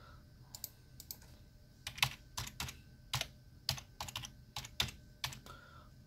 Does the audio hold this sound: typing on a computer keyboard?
yes